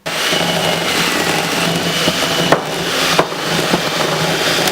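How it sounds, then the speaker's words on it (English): Butter and sugar being beaten together for a cake: a steady, close whirring drone that runs throughout, broken by a few sharp clicks and knocks against the bowl. "we just need to beat butter and sugar together"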